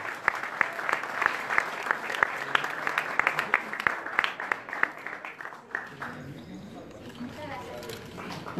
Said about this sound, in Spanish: Un aplauso a todos y todas los y las condecorados y condecoradas